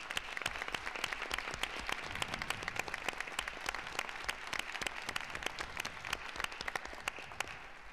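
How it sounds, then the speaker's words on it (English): Staff members at a school district board meeting receive a round of applause from the room, steady dense clapping from many hands that runs on without a break. "please stand up so we can give you a round of applause."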